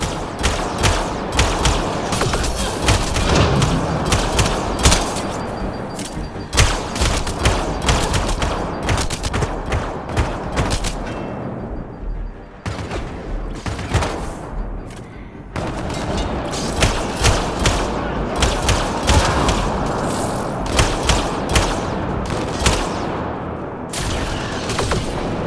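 Sustained gunfire in a Mass Effect Andromeda firefight, rapid sharp shots in dense bursts with brief lulls, loud and close over a steady background of combat noise.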